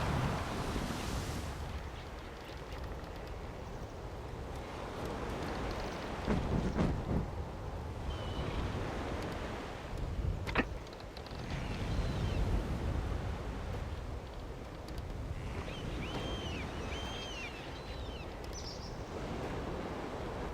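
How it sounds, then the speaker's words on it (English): Raging storm in the video game ANNO 1404, steady roaring wind and crashing waves throughout, with surging gusts, a sharp crack near the middle, and faint cries of seabirds or creaking toward the end, loud and dense with no talk. "We have no chance while this storm is raging."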